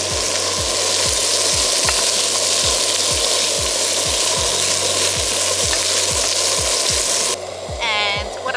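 Pork sizzling and frying loudly in a Trangia pan outdoors by a lake for carbonara, a steady close crackle over a low burner roar with regular rhythmic thumps, easing slightly near the end.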